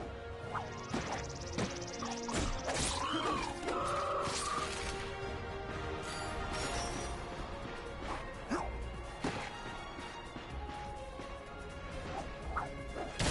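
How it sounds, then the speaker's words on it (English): Wooden crates smashing in the video game Ratchet & Clank, a rapid series of loud cracking, thwacking breaks and whooshes layered over game music and effects, with no talking. "Look at him smashing crates."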